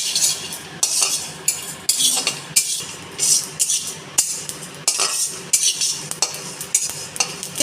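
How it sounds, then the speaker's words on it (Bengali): Dry-roasted cumin and fennel seeds stirred in a pan, with a repeated scraping rhythm of a spoon roughly every half second and a faint dry crackle beneath, close and fairly loud with no talking. "এটাকে আমি কাঠখোলায় ভেজে নেব"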